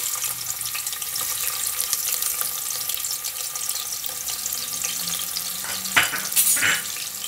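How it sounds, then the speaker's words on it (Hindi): A medium onion frying in a cup of hot oil in a pan for a homemade vegetable sabzi, a steady close sizzle and hiss with a few sharper clinks near the end, no talking. "प्याज को भी थोड़ा ब्राउन होने देना है, फिर उसमें हम मसाले मिला लेंगे।"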